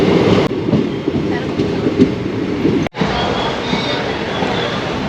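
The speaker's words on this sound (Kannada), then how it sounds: "ಇವಾಗ ತಾನೇ ಮಂಡ್ಯ ಸ್ಟೇಷನ್ ಬಿಟ್ಟು ಹೋಗ್ತಾ ಇದ್ದೀವಿ" A passenger train pulls out of Mandya railway station, heard from on board as a loud steady rumble of wheels and carriage noise with a sharp cut partway through.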